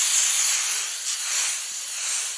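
Aerosol brake cleaner spraying steadily onto an RB25 crankshaft, a continuous loud, close hiss lasting the whole moment with slight swells in intensity.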